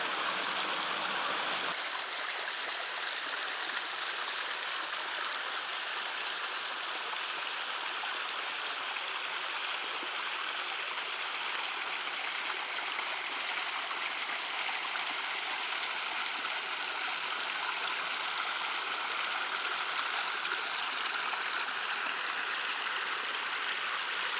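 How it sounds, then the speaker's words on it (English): A small creek flows steadily along a forest hiking trail in the Ozark Highlands, making a continuous soft rush and trickle of water at moderate distance, with no voices over it. "beautiful little creek here."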